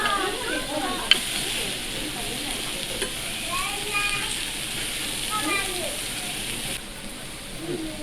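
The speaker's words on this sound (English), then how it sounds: "Cut the pork into pieces and stir fry it." Pork pieces stir-fry on a hot griddle for okonomiyaki, a steady close sizzle with scraping and stirring throughout, heard under talk.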